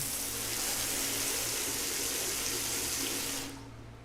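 Shower water in the Danganronpa Mauve video game runs in a loud steady hiss, then cuts out abruptly near the end, with no voices.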